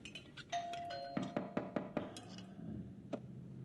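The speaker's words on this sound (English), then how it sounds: "The fucking sound design on that doorbell was realistic." A realistic doorbell from the TV show Severance chimes clearly in a quiet room, followed by a quick series of sharp knock-like hits and a final faint ding.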